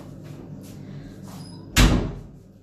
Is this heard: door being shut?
yes